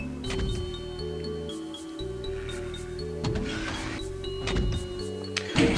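A moving elevator in Doom's Sunlust map23, a low mechanical grinding hum with layered tonal drones and a few clunks, steady and fairly quiet throughout, with faint game sounds but no talk.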